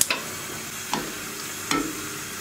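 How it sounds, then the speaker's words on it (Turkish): Red pepper dry-roasts in a pan on the stove without oil, with a faint steady sizzle broken by three brief scrapes or clacks of stirring. "Öncelikle yağ katmadan önce biraz kavuracağım."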